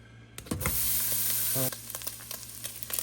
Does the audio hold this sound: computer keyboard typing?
no